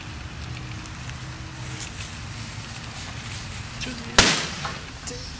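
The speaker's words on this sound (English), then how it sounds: "Reaction, it creates a gas which creates an explosion." A single sharp bang bursts from a reaction of tin foil and toilet cleaner, sudden and loud against a quiet, faintly noisy background, with a brief decaying tail afterward.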